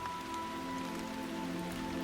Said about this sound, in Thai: แล้วฝนก็ตก